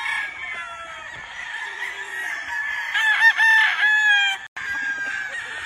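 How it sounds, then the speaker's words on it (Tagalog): A Hatch Grey P-comb brood cock rooster crows loudly and close by on a Philippine gamefowl farm, one drawn-out cock-a-doodle-doo with a strained, wavering middle section and a brief break near the end. "Our personal brood cock."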